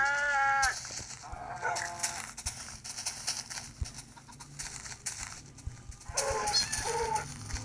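Sheep bleat loudly twice, at the start and near the end, over a busy background of clatter and rustling.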